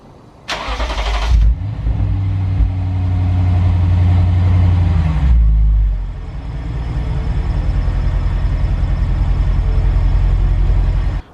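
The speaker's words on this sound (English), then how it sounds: "So let's go ahead and start the car, put it in reverse" A Lexus RC F V8 cranks and fires up with a loud starter whir, revs briefly, then settles into a steady, close-up idle that shifts slightly as the car is put in reverse.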